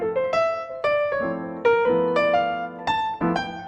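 Solo jazz piano improvisation with lines broken up by triplets and sixteenth-note runs over sustained left-hand chords, brisk and clearly played, with no voices.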